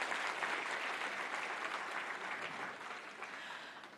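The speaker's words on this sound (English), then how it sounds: "let's have a round of applause to thank him for joining us this morning." Conference audience applauding, a dense sustained clapping from a large crowd in a hall that stays steady and then fades slightly toward the end.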